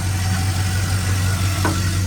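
A 1978 Chevrolet El Camino SS with an LS engine idling nearby, a steady low rumble with a constant throb, holding even throughout.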